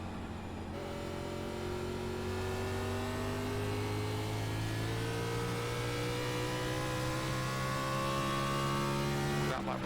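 A NASCAR race car engine revs in the iRacing video game, a loud, continuous high-pitched drone whose pitch climbs steadily as the throttle opens, with a commentator's voice faintly underneath.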